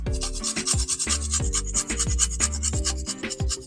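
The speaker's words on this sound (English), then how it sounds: "I'm going to grate nutmeg." Whole nutmeg is grated by hand, a close, steady rasping scrape repeated in quick, even strokes with no talk.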